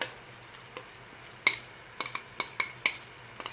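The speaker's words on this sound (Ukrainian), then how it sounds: "Так само перемішуємо і протушуємо трохи ще." Minced meat stewing with onion in a pan is stirred with a utensil, giving a series of sharp scrapes and clinks over a soft background simmer, about seven distinct strokes spaced irregularly, no voices.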